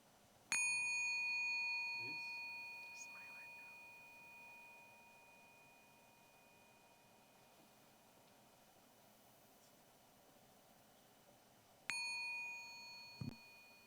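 A bell is rung at a nonviolence peace ceremony at the International Peace Museum, and two clear ringing strikes are heard. The first rings out and decays slowly over about eleven seconds, then a second strike follows near the end in a quiet room.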